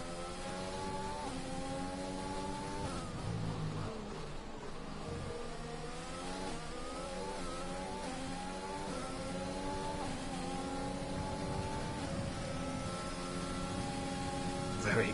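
Ferrari race cars in a racing video game at a USA Grand Prix, engines droning and shifting pitch continuously as they battle closely, with several overlapping engine notes throughout.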